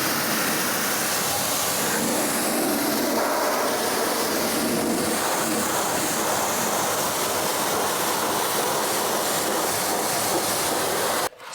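Pressurised water sprays continuously onto a car wheel to rinse off wheel cleaner, a loud, steady rushing hiss close by that cuts off abruptly at the end.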